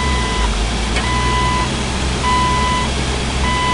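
A 4-wheel drive vehicle turns hard in high range while its engine drones steadily at close range, and a repeating electronic warning beep sounds in even pulses over the idle.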